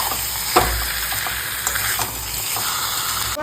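Washed mutton pieces sautéing in a pan, a loud, steady, close sizzle with a few stirring scrapes and bumps, alone without speech.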